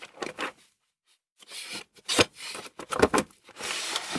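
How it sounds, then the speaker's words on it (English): The side flap of a cardboard box for a 1/12 scale Megaman X Vile action figure slides open with several close, dry rubbing and scraping strokes broken by brief pauses. "to open the box, you just simply slide open the side flap"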